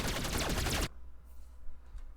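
Rapid gunfire from an asteroid defense system in a space video game, a dense, loud burst lasting under a second that cuts off abruptly to a low, quiet hum.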